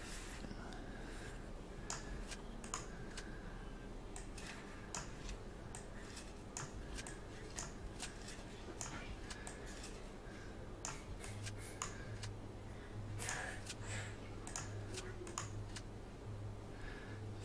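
Rapid keyboard typing clicks, irregular and fairly close, carrying on steadily over quiet background hum while building a Prison Architect layout.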